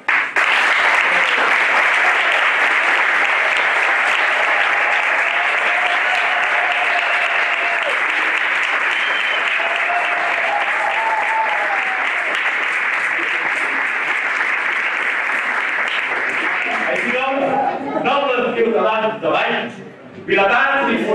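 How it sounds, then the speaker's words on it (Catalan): Sustained, dense applause from a large crowd at a civic reception of mayors for the Ball de Vells in Valls, steady and loud for most of its length before giving way to voices near the end. "us donarem les gràcies amb aplaudiment"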